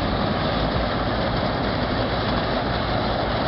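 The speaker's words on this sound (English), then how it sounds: "this is one of the newer John Deeres on the place, a 1968 Model 3020 diesel tractor." A 1968 John Deere Model 3020 diesel tractor engine runs with a steady, dense rumble at a steam and antique machinery show, constant and close with no voices.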